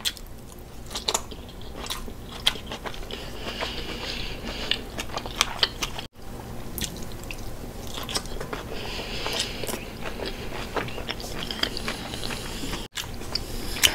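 Close-up crunching bites and wet chewing of red cabbage, sweet potatoes and kielbasa, a steady run of crisp crackles and squishy mastication with brief pauses, no talking.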